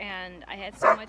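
A pet dog gives a short yip and bark, loud and close, breaking in over someone talking indoors.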